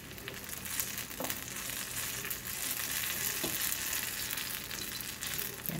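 Food sizzling and frying in a hot pan on Easter Sunday cooking, a steady loud crackle throughout with a few sharper pops, no voices.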